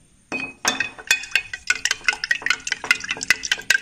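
Spoon stirring caramel into a grape wine mixture in a glass or metal vessel, making a steady run of sharp, close clinks and scrapes that repeat roughly every quarter second after a short silent start.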